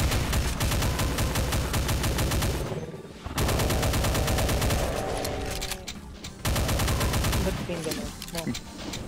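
Rapid, punchy weapon fire from the Fragport Doom mod, played co-op on the Desert Prison map, crackling in dense continuous bursts with two brief pauses, loud and close throughout.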